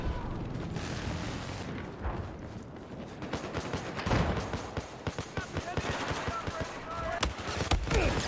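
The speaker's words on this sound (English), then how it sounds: "I kept hearing the gunfire" Rapid bursts of automatic gunfire and scattered shots in a Battlefield 4 match, loud and dense throughout, with occasional heavier booms and a player talking over the clatter.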